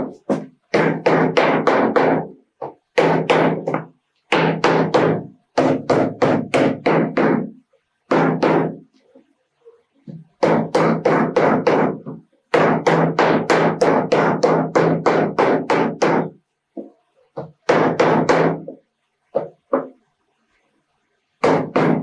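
A mallet strikes slipper material during shoemaking: quick runs of sharp knocks, loud and close, in bursts of several blows separated by short pauses, with no talking.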